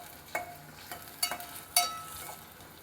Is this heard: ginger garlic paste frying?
yes